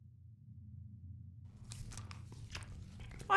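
A rabbit sheep in a video game crunches on pet food: soft, quick crunching and chewing bites close up over a low game hum. Quiet at first, then the crunches start.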